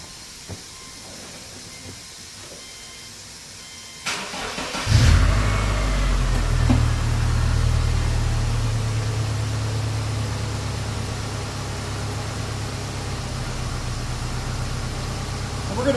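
A tuned car running VP Octanium fuel cranks and fires up after a quiet stretch, then settles into a loud, steady idle with a low engine rumble and hiss.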